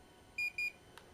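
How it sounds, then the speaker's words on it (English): Two short, clear electronic beeps from a DJI Avata FPV drone just before takeoff, evenly spaced and alone over a quiet background, followed by a faint brief click. "I heard 2 beeps"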